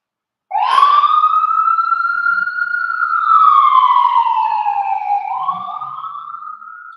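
A police car siren wails loud and close, starting abruptly then holding a long rising and falling tone with no voices over it.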